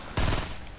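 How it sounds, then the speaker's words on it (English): A short, loud burst of rapid gunfire from the video game Fortnite, close and punchy, fading into a ringing tail. "I got you, I'm shooting him."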